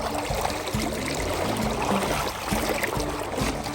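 Fast-flowing, high river water at the swiftest stretch of a stream on the Isle of Skye, a dense continuous rushing wash, fairly close, with faint low tones underneath.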